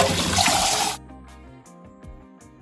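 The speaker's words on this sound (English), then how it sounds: "I'm gonna rinse these cans out" Tap water rinses out empty food cans at a home kitchen sink while chili cooks: a loud, close rush of running water lasts about a second and cuts off, leaving faint, quieter clinks and rings.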